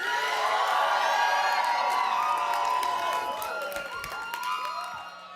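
Lively crowd cheering and whooping with scattered clapping after a band is introduced, loud and sustained, with excited shouts rising and falling before easing off.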